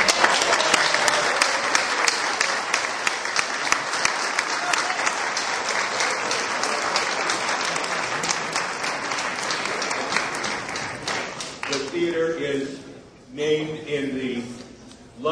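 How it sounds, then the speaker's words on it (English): A theater audience applauds an honored guest at a dedication, with steady loud clapping from many hands that fades out near the end as voices begin to speak. "a round of applause for our very special and honored guest who is right here with me"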